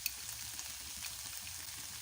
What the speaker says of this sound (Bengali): আদা আর পেঁয়াজটাকে একটু ভেজে নিচ্ছি